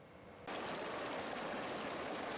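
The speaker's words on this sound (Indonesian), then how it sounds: "Banjir lahar dingin menerjang daerah aliran sungai Leprak di Desa Jugosari, Kecamatan Candipuro, Lumajang" A cold lava flood surges down the Leprak river in Jugosari village, Candipuro, Lumajang, after heavy rain on Semeru's summit; a quieter rush abruptly jumps to a loud, continuous roaring torrent of water.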